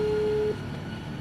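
A telephone rings indoors, a single steady electronic tone that stops after half a second, leaving only faint room noise.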